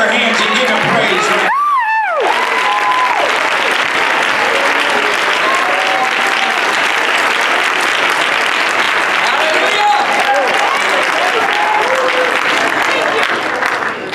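A church congregation at a sermon breaks into sustained loud clapping and cheering, a dense wash of applause filling the whole stretch with occasional whoops and shouts rising above it.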